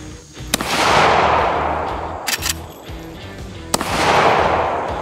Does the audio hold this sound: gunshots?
yes